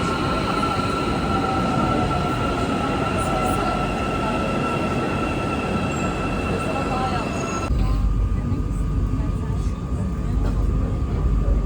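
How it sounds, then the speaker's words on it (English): An Istanbul metro subway train runs through a tunnel with a loud steady rumble, whining motor tones and faint wheel squeal, then changes tone partway through. "Got off the second metro as well, the subway"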